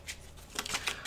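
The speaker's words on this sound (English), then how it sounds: "I want to see what the Lenormand want to add, so I'm just shuffling these up." Lenormand cards are shuffled by hand in a few quick riffling bursts, close and fairly quiet, with no talking.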